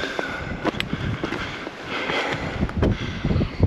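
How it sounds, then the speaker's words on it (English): Wind gusts buffet the microphone outdoors on a hiking trail in overcast weather, rough low rumbling bursts rising and falling, with scattered sharp knocks. "Definitely windy today."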